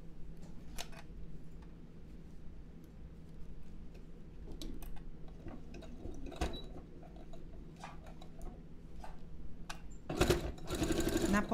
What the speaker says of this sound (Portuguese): Vou na minha máquina, ponto de zigue-zague.